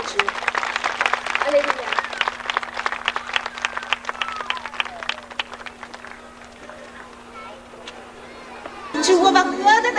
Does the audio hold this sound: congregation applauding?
yes